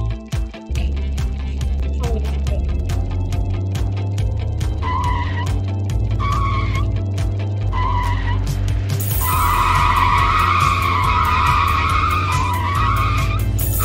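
Cars drift around corners in the Drift Boss video game, giving a loud, continuous engine drone with harsh tire-skid squeals that grow brighter and denser toward the end.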